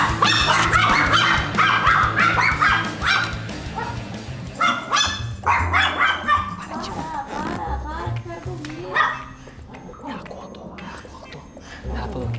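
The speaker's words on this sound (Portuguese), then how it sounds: "Não late, ela não pode latir." A dog barks and yips repeatedly amid busy indoor chatter and background music, the barks loud and close, mixing with overlapping voices.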